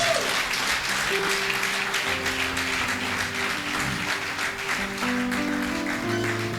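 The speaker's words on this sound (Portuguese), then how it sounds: "Aplaude pela glória do Senhor." Church congregation applauding together in steady, dense clapping that runs throughout, with sustained musical tones, likely organ or keyboard, underneath.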